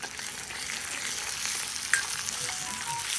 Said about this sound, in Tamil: ஒரு பதினஞ்சு சின்ன வெங்காயத்தை போட்டு நல்லா வதக்கிக்கலாம்